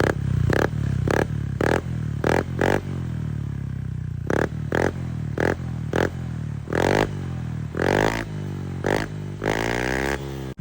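A Honda Click scooter with an Apido aftermarket exhaust pipe revs in a string of sharp, loud throttle blips, some short and some held longer, rising and falling with crackly exhaust tone and no talking.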